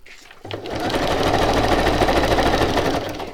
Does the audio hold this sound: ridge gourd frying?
no